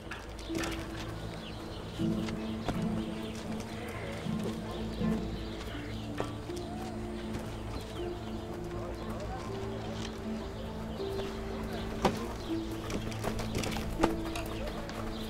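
Horse hooves clip-clop at a moderate distance in a period drama battle-camp scene, a rhythmic, fairly faint clatter running under background ambience with occasional sharper knocks and bird-like cooing.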